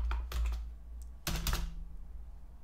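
Someone types code on a computer keyboard, close up. There are two quick bursts of crisp keystrokes separated by a short pause, with no talking.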